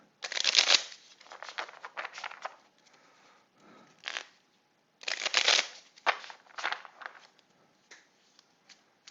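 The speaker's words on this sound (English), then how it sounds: "Should be shuffled well now enough that I'm not feeling like I'm jipping myself." A deck of playing cards for a World War II tactical squad combat card game is shuffled by hand in close, crisp bursts of riffling and sliding, separated by short quiet pauses.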